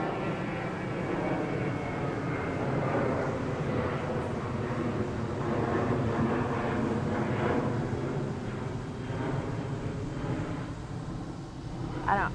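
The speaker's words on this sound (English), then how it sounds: "there's a plane going overhead" A fixed-wing airplane passes overhead near an airport as a steady broad roar that holds at an even level throughout, rumbling and continuous with no talk over it.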